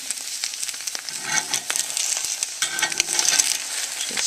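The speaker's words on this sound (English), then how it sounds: "As you can see, that egg is bubbling" An egg frying in a pan for a breakfast taco, with a steady close crackling sizzle and scattered sharp pops, continuous throughout with no talking.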